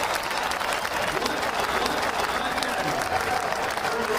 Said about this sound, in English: The crowd relieving themselves after seeing the video of Robert Height climbing out on the big screen